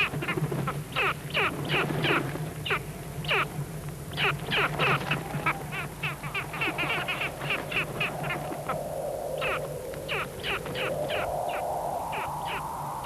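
Antarctic skuas guarding their eggs near their nests give a long run of harsh, rapid, repeated squawking calls, loud and close, with a steady outdoor hum beneath.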